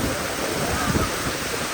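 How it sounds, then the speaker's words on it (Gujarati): Heavy rain pours down in a storm in Patan, a dense, steady hiss of falling water with a faint low rumble underneath, no voices. "કેટલો ખતરનાક વરસાદ પડે"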